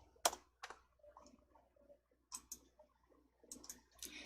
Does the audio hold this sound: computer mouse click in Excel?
yes